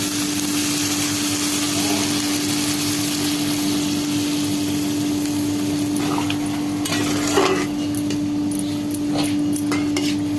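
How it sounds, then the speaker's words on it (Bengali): Spiced potatoes for a Bengali rui fish curry sizzle steadily in a pan after water is added, a constant close frying hiss with a few stirring clinks and scrapes near the end. "এবার জল দিয়ে দেবো।"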